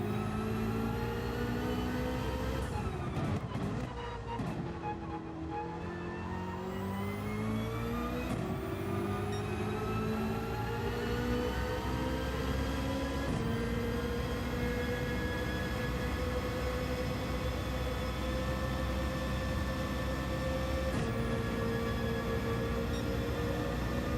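A racing car engine in Gran Turismo 7 drones loudly and continuously, its pitch climbing through gears with several clear upshifts, with no talk.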